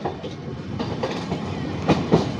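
A train rolls along the Ooty line with a steady broadband rumble and rattle of the carriages, punctuated near the end by a couple of louder clacking jolts from the wheels.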